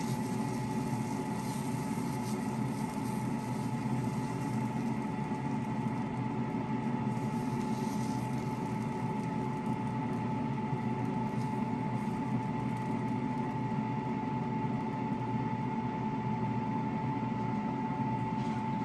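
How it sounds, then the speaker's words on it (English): A steady mechanical hum and whir of an air fryer runs continuously in the background, with a constant tone and no voices. "If you hear the noise in the background, that's my air fryer."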